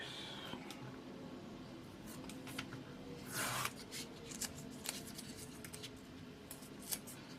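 Scissors or blade cutting one solid piece for a Hasegawa 1/72 Queadluun Rau model kit, quiet close snips and scratchy rubbing with a longer shearing stroke partway through, sparse clicks around it.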